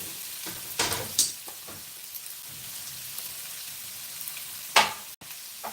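Vegetables being sautéed in a pan for a home-style Tamil dish, a steady soft sizzle with a few sharper stirring scrapes near the start and one near the end, fairly quiet and with no voices.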